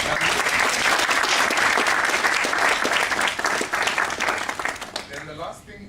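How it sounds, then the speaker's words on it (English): An audience at a judiciary discussion event applauds the panel with a full, even round of clapping that holds steady, then thins out near the end as someone starts speaking. "If we can have a round of applause for our panel."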